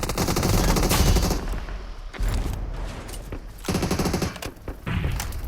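Loud, rapid bursts of automatic gunfire with heavy booming impacts, continuous and dense with brief gaps, from a video game.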